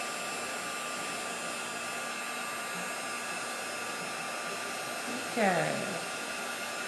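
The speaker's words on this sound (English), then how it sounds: "A lot of people let their gun heat up for like, 30 seconds or so before they even start using it." A heat gun blows a steady, even whoosh while melting embossing powder on a dahlia 3D card, running continuously at close range, with a brief spoken word near the end.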